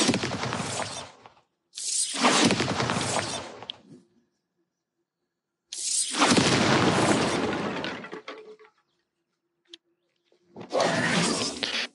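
Bombarda blasting spells going off in Hogwarts Legacy, four separate loud booming explosions with crumbling, shattering debris, each burst lasting a second or two and separated by stretches of near silence.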